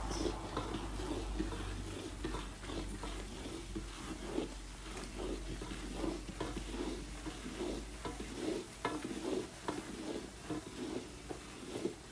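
Cream of wheat being stirred into a large batch of ghee and flour for Divali prasad produces a soft, continuous sizzle with rhythmic scraping strokes, fairly quiet and close.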